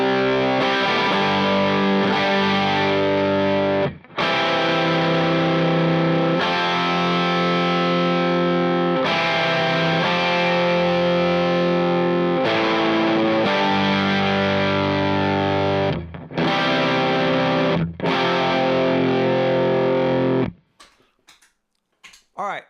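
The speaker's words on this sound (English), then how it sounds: "I will even combine the Diamond, the RC, and the Analog Man, which will sound like this" Electric guitar driven through stacked Diamond, RC and Analog Man overdrive pedals, a loud, continuous distorted rhythm part with sustained chords and short gaps, ending abruptly in near silence.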